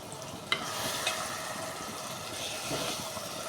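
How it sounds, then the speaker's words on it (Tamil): Brinjal (eggplant) pieces fry in oil, a steady soft sizzle with light stirring clinks, fairly quiet and close. "கத்திரிக்காய் நல்லா எண்ணெயிலே வதங்கணும்"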